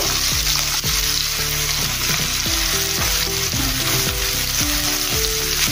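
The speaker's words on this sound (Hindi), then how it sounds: "और साथ में हम हरी मिर्च भी डाल देंगे कटी हुई। थोड़ा सा भूनेंगे प्याज को।" Chopped onions and green chillies fry in hot oil for a chana dal pulao, giving a loud, continuous close sizzle broken by repeated stirring scrapes against the pan, with no talking.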